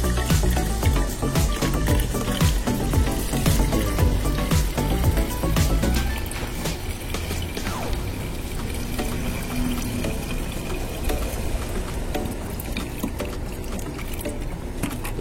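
Water poured steadily into the radiator of a 2018 Chevrolet Tahoe with an overheating engine, a continuous close splashing and trickling fill with no talk.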